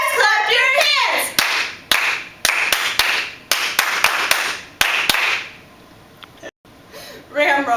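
Rhythmic group hand claps from Ram fans in the stands at a cheer section, sharp unison claps in steady bursts amid crowd noise and chanting voices, pausing briefly near the end before crowd sound returns.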